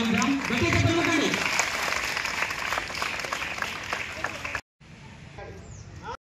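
A school function audience breaks into loud, sustained clapping to welcome a speaker to the stage. The clapping cuts off abruptly and is followed by quieter room noise.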